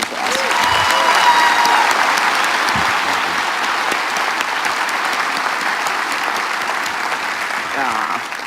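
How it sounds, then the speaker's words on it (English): Sustained applause from the audience at an IBM healthcare keynote, a broad, loud wash of clapping that holds steady for several seconds before easing slightly at the end. "So why don't we give him one more hand of applause?"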